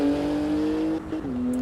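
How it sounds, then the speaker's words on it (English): Engine of a race car in Assetto Corsa EVO, a steady, fairly loud drone that briefly dips near the end with a short exhaust blowback pop before the tone resumes at a lower pitch. "did you hear that exhaust blow back there?"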